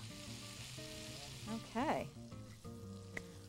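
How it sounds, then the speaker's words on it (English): Bacon sizzles and crackles steadily in a pan, a constant frying hiss, while a person speaks briefly over it. "Bacon is starting to sizzle."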